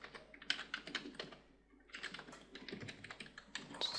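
Computer keyboard typing while writing HTML and CSS form code: a dense run of quick, quiet key clicks, a brief pause, then another steady flurry of keystrokes, with no talking.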